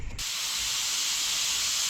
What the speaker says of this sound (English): we're going to go ahead and get spraying this black, and I got my paint gun loaded up